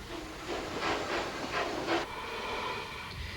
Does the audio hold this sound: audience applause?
no